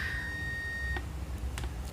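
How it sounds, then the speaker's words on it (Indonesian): A digital multimeter in continuity-test mode sounds its buzzer in a steady high beep lasting about a second, followed by a few faint clicks against a quiet background. "kalau dia nyambung, buzzernya bunyi ditandai dengan lampu merah di atas layar ya"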